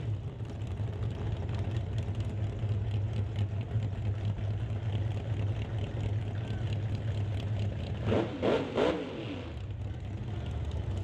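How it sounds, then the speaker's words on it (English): A 1948 Austin drag car with a 512-cubic-inch Mopar engine idles loudly and steadily nearby, then blips its throttle in a short cluster of sharp revs before settling back to a rumble. "Here's Zach blipping the throttle over there in the Austin, the 512 cubic inches of Mopar power."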